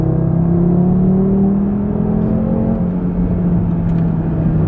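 Inside an Audi RS3, the engine and exhaust hold a steady, loud droning hum with a deep burbling undertone, the pitch shifting slightly as the car drives.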